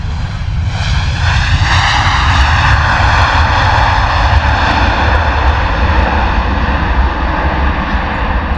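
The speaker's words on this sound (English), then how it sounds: "What a noise there from the Ryanair, eh? Braking hard." A Ryanair Boeing 737 touches down at London Luton Airport and brakes hard, producing a loud, sustained engine roar with rising and falling whine throughout, close and dominant without speech.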